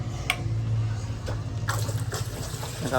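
Water runs steadily while being filled to give cattle a drink on a rain-soaked farm, a close, continuous splashing flow broken by a few brief knocks.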